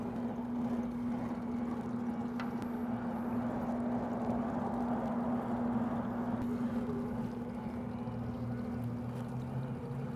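A meat grinder turns slowly on low speed, feeding frozen brisket through. It gives a steady, even motor drone with a constant hum and grinding texture, moderately loud, for the whole stretch without talk.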